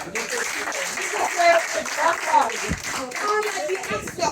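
Studio audience clapping on a casting show set, a steady wash of applause under a voice and scattered chatter throughout.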